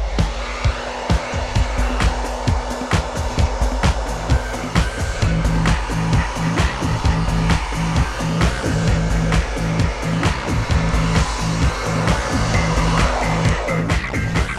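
A handheld blow dryer styling hair for a voluminous blow-out, a steady close whir with a rapid repeating rattle as the dryer and brush move through the hair.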